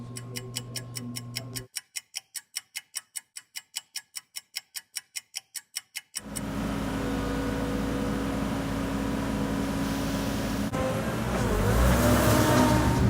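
A pickup truck hauling a hay feeder in its bed heads into town: a steady ticking turn signal sounds first, then the engine and road noise swell into a constant drive.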